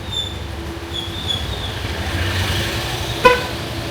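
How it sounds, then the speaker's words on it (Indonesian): A single short car horn toot from a Wuling Air EV climbing uphill sounds near the end over the steady hum of the vehicle running. "Untuk naik aja gue klakson guys."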